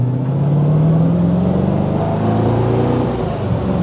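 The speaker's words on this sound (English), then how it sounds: "Here we go, first gear." A 1999 Shelby Series One accelerating hard in first gear, its engine note climbing steadily and loud and close throughout, with no talking over it.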